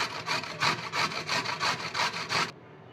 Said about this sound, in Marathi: आपण आता ना छोटं गाजर घेतलेलं आहे, सोलून घेतलंय, स्वच्छ धुवून घेतलंय, ते पण आपण किसून घेऊयात